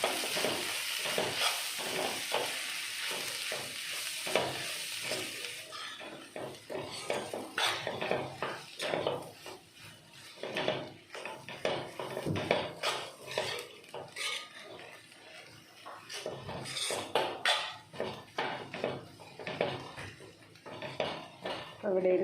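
Crushed ginger, garlic, green chili and turmeric are stirred in a pan with repeated scraping and clinking strokes of a spoon over a light sizzle, close and steady.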